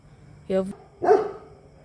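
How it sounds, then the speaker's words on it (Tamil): A dog gives two sharp barks, close and loud, about half a second apart in an otherwise quiet outdoor city setting. "நாய் குலைச்சி சத்தம் வந்ததுன்னு"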